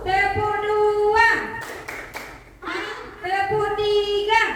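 Schoolchildren play a clapping game during a classroom ice-breaker, a short burst of rapid hand claps falling between loud sung or chanted voices.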